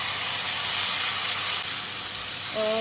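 Crushed ginger, garlic and chilli masala with onion and tomato frying in a pan, a steady loud sizzle and hiss throughout, close and unbroken.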